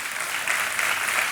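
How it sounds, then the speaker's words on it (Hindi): Studio audience clapping on a televised quiz show, a dense, sustained burst of applause that swells slightly midway and keeps going without a break. "ताली बजती रहे तो अच्छा रहेगा"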